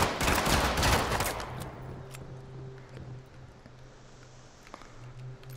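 Gunfire in the video game Firewall Zero Hour during a public match: a loud burst of shots at first, then quieter scattered pops over a steady background hum.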